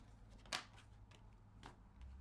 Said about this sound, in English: Too many cards, so we're gonna keep shuffling here